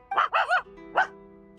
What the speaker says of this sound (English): Why is the dog barking at us?